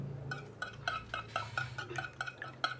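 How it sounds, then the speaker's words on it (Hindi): Vanilla cake batter is stirred in a bowl with a utensil, making a quick run of about ten soft, wet scraping clinks in an even rhythm, close up and quiet, with no voices. "मिक्स कर लेते हैं हम।"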